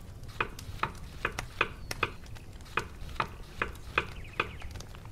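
In the Kebab Chefs restaurant simulator, tomato slices drop into melted butter in a pan, giving a run of short, crisp taps and clicks in a loose rhythm over a soft, steady sizzle.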